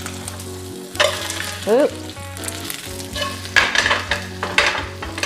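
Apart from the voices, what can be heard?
tortilla-crusted salmon sizzling in a hot pan as it is flipped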